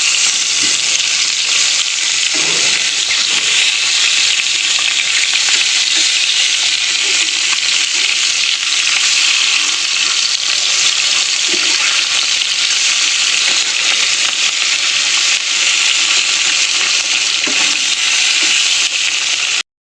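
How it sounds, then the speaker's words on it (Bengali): Salt-and-turmeric marinated fish fries in a saucepan with a loud, dense, unbroken sizzle and crackle close up, with faint stirring clinks now and then. "এবার এই মাছে মাখিয়ে নিয়েছি নুন হলুদ, মাছটা এবার ভেজে নেব।"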